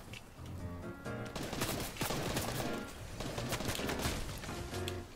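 Rapid gunfire in a battle royale shooter with a restricted loadout, bursts of close shots and automatic fire rattling fairly loud and nearly nonstop through the moment.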